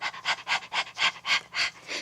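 A person imitates a small dog panting, producing about eight quick, evenly spaced breathy huffs close to the ear, with no other sounds.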